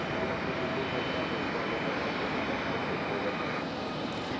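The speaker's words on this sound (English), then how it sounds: "Iceland Air coming in from Reykjavik. It's a Boeing 737 MAX 9." Icelandair Boeing 737 MAX 9 jet arriving from Reykjavik at Raleigh-Durham, a continuous distant engine whine and rumble that stays steady and then eases slightly near the end.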